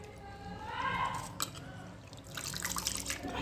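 Shredded potatoes rinsed by hand in a bowl of clean water for a fasting-day potato lachha snack, with steady close sloshing and splashing, a couple of sharper splashes and drips midway.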